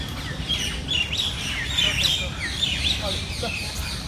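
Small birds chirp and call in short repeated bursts among the trees and water plants of Lodhi Garden in Delhi, a steady outdoor murmur with faint voices and low ambient noise underneath.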